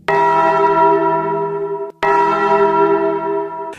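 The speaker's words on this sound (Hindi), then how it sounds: "मंदिर की सारी घंटियां एक साथ बज उठी।" Temple bells in a cartoon horror story strike together in two loud, ringing peals, each one sustaining and slowly fading before the second hits about two seconds later.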